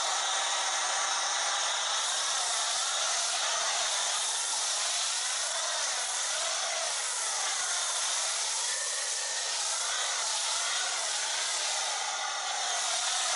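A Comet Static 1700 pressure washer sprays continuously to clear its nozzle, producing a loud, steady hissing rush of water close by with slight wavering, uninterrupted throughout and with no talking.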